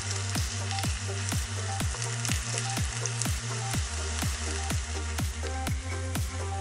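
Slices of bread fry in oil in a pan toward a golden crust, giving a dense, even sizzle throughout, overlaid by a regular pulsing hum, with nobody speaking.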